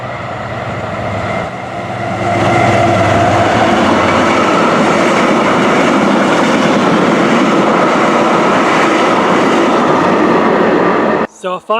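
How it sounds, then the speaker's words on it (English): A freight train rumbles past close by through Duffield Station, loud and steady with rhythmic clattering wheels, building after a quieter start and cutting off abruptly at the end. "wait for this freight train to come through Duffield Station"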